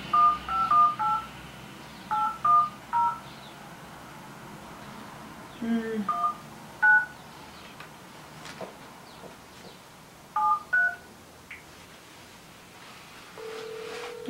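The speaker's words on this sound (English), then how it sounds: "Could you dial it, please?" Touch-tone telephone keypad dialing: short clusters of beeping digit tones in several bursts with quiet gaps between them, close and clear over faint room background, ending in a steadier tone.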